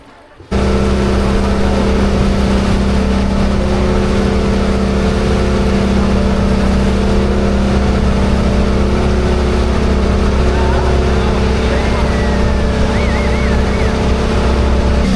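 A boat engine drones loud and steady throughout off Moalboal, Philippines, starting abruptly after a short quiet moment, with water noise beneath.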